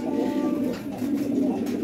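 A pigeon gives a short, low, continuous coo at close range, lasting under two seconds with no talk over it.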